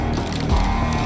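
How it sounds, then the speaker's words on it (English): Gun reloading in the SCP 5K video game, a short run of mechanical clicks and ratcheting clatter from a weapon magazine being swapped, fairly close and steady with game ambience underneath and no talking. "Yeah, reloading."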